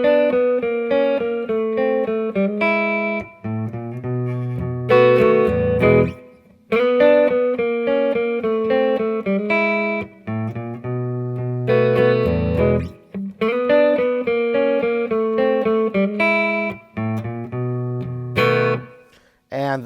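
Guitar playing a second variation of a blues turnaround in E, with effects: bright distorted descending riffs and chords cycling through repeated phrases, close and prominent with no speech.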